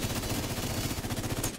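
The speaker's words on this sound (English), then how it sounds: "I gotta shoot this thing." Rapid automatic gunfire from The Division 2 video game rattles in a fast, steady, loud burst that cuts off abruptly.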